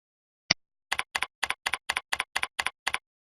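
A single tap followed by an evenly spaced run of about ten double-click keystrokes on a computer keyboard, crisp and close in an otherwise silent room.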